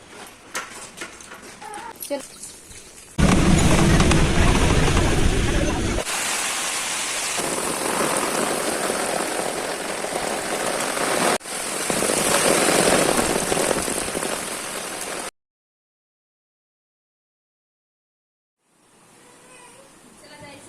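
Heavy rain pours in loud bursts alongside voices, then cuts to silence before faint sound returns.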